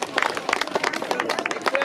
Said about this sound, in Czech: Tak, zatleskáme.